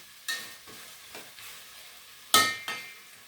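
Potatoes cooking in a pot for a bean stew, heard as a few scattered stirring scrapes and soft sizzling bursts, with one louder clatter near the end, fairly close and without voices.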